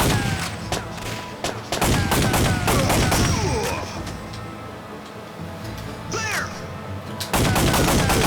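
Rapid bursts of gunfire from the PlayStation light-gun game Time Crisis, loud and close, with repeated sharp shots in clusters separated by brief lulls and a dense barrage again at the end.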